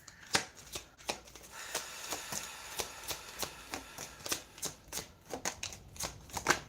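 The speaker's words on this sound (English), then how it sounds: "Let's give those a shuffle again." A deck of tarot cards shuffled by hand close up, a quick run of crisp riffling and slapping bursts in an uneven rhythm, with no voice over it.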